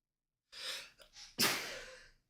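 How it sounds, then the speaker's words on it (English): A sharp intake of breath, a brief hitch, then one loud explosive sneeze close up, trailing off into a breathy exhale. "It's not often that a whiskey makes me sneeze."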